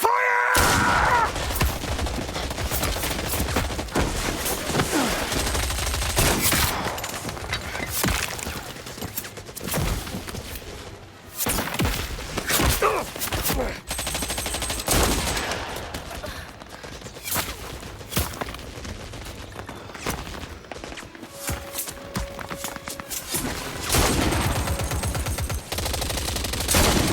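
Soldiers open fire in the Indiana Jones and the Great Circle video game, with sustained bursts of automatic gunfire and scattered single shots for nearly half a minute, loud and close, ebbing briefly before resuming.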